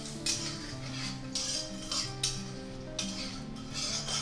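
Spices with asafoetida stirred in a pan for a low-oil palak paneer, a spoon scraping and clinking against the metal in a loose rhythm of repeated strokes over a low steady hum.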